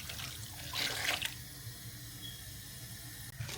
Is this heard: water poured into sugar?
yes